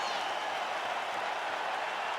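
Arena crowd cheering and applauding in the UFC 5 video game after a fight goes the full 25 minutes, a steady dense roar of clapping and voices throughout at moderate level.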